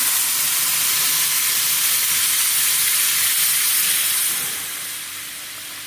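Loud, steady sizzling hiss as water is poured into spice paste frying in a hot pan, settling into quieter bubbling toward the end.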